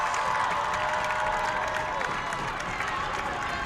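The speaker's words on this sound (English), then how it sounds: "And the crowd goes wild." Spectators at a high school football game between the Tonganoxie Chieftains and Ottawa Cyclones cheer and applaud after a Cyclones touchdown, a steady, fairly distant roar of crowd noise and clapping with no one speaking.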